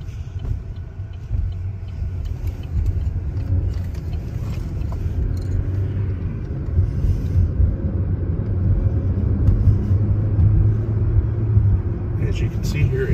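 A 2015 Chevrolet Cruze rolls along a road, its steady low engine and tire rumble droning continuously and close, building slightly louder toward the end, with no clear rattles.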